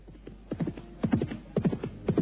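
Hooves clip-clop at a steady trot in a radio drama, rhythmic groups of hollow knocks that sound close and clear over a low hum.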